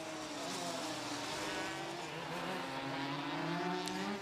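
A late-1970s racing kart with a Yamaha TD3 250cc two-stroke engine, a buzzing high-revving drone with rising and falling pitch at a historic kart demonstration, steady and moderately distant.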